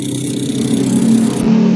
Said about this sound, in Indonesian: Ini kak, kulkasnya bunyi lagi.